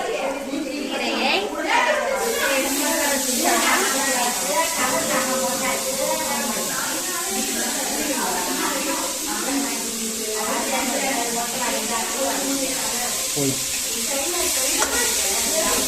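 Onions and manathakkali greens fry in a pan while being stirred, giving a steady close sizzle and scraping under continuous talk.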